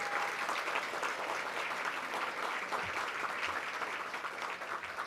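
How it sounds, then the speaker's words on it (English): Audience members at a grant awards celebration clap together in a steady, even wash of applause, fairly soft and distant, tapering slightly toward the end. "let's give everybody a round of applause"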